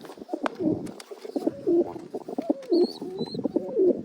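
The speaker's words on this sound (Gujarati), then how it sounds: "કબૂતર તો ચાલો બોલવા માંડ્યું" A Siraji pigeon coos close by in repeated low, throaty calls, with a few faint chirps and soft background sounds between them.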